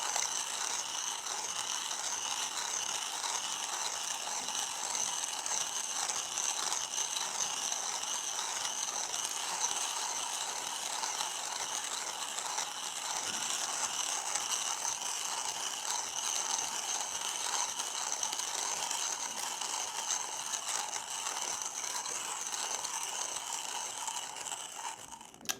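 Coffee beans, a dark roast, are ground by hand in a 1Zpresso ZP6 grinder: a continuous close crunching, ratcheting churn with a steady rhythm that fades slightly at the end.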